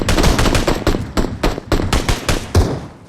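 Rapid automatic gunfire from weapons in a video game, with loud, sharp bursts repeating in a quick, uneven rhythm throughout and no talking.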